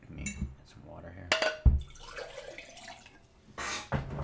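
Water is poured for drinking: small splashes and trickles mixed with clinks of a glass or cup being handled, close and fairly quiet, with a few sharper knocks.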